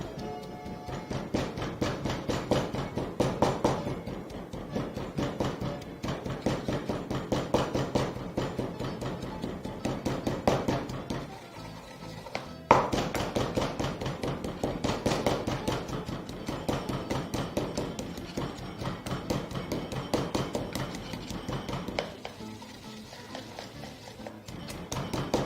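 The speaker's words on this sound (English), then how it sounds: "So basically you want to continue pounding that till you've got a very, very mushy consistency." Herbs and spices pounded with a mortar and pestle for tomato soup, a steady run of rapid, fairly loud thuds and taps that pauses briefly midway before resuming.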